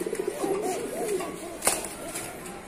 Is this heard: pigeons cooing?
yes